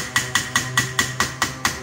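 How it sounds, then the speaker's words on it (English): A hammer strikes metal eight times in a steady, even rhythm, each blow ringing briefly. "Grab an hammer and we'll beat it up."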